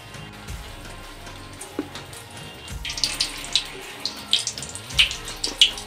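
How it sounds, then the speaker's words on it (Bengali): Crab brain chops sizzle in hot soybean oil over medium heat, a bubbling, crackling hiss with sharper pops growing louder in the second half, no voices. "এবং এই সবগুলো ভাজতে হবে মিডিয়াম জালে।"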